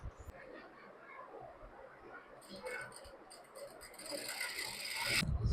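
Sewing machine stitching the edge of a saree, heard as a fast, rattling mechanical run that builds toward the end, with faint ticking and clatter before it.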